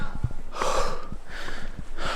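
A hiker climbing a hard uphill stretch of trail in Albania on a hot day breathes heavily, with close, rough panting gasps in uneven bursts and no talking.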